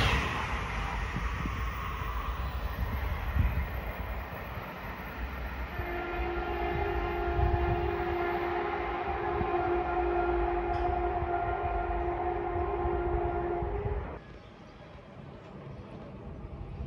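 A train passes at Chard Junction on the Waterloo–Exeter line, a loud, steady rumble of wheels on rails with a sustained horn-like tone over the middle, then fading as it moves away.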